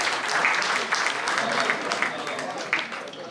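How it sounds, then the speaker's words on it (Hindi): Audience applause at a mushaira poetry gathering in Toronto, a steady wash of clapping from a crowd with voices mixed in. "तालियां तो मिल जाए।"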